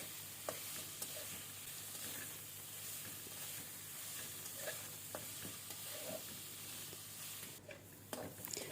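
Dry dates halwa being stirred and roasted in ghee and milk, a steady soft sizzle with scattered scraping clicks of the spoon against the pan, close and continuous throughout.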